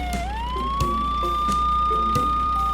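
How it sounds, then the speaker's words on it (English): An ambulance siren wails loudly and close with a steady rising, sustained electronic tone, over a low rumble and a few scattered knocks. "ambulance should switch on the emergency flash and make loud siren"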